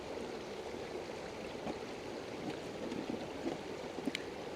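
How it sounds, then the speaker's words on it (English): A pot of water boils steadily, giving a continuous soft bubbling hiss with faint pops scattered through it. The sound is quiet and unbroken. "it's boiling away in there"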